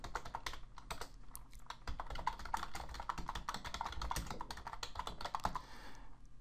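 Rapid, steady typing on a computer keyboard while entering SharePoint 2010 metadata terms, with dense close-up key clicks running for several seconds and no voices.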